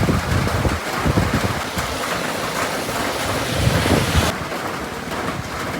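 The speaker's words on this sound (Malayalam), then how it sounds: "മഴ അതിശക്തമായി കേട്ടോ" Heavy rain pours steadily near Kattikkayam waterfalls in Kottayam, a dense, loud wash of noise that continues without a break and is buffeted by gusts of wind on the microphone.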